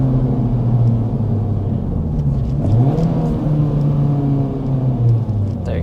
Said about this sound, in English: we're certainly getting a lot more character with this Type S exhaust